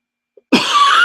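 A single sharp cough up close, followed by a sustained rough exhale or throat noise, with a tiny click just before.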